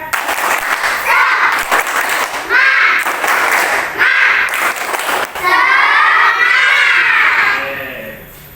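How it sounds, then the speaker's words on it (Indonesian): Elementary schoolchildren in a classroom perform a rhythmic spirit clapping chant, bursts of claps mixed with loud shouted voices, with sung or chanted lines rising toward the end. "sekarang kita tepuk semangat dulu"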